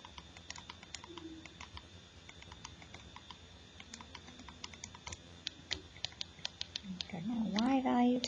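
Calculator keys tapped repeatedly as points are entered, a steady run of light, close clicks; a short voiced sound rises near the end.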